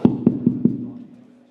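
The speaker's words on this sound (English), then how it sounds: "and we get a knock on the door." Four sharp knocks on a door in an even rhythm, close and fairly loud, with a resonant ring that fades after the last knock.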